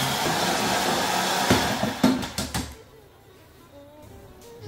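A blender whirs steadily at close range as it blends a cream sauce of peas and cream, then cuts off after about three seconds, leaving a few clunks and a quiet room.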